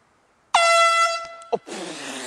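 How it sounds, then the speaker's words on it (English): Air horn blasted on a golf course as a golfer tees off: one loud, sustained honk of about a second, cut short, then a brief second burst followed by a rush of broadband noise, close and harsh. "we're going to blow these air horns"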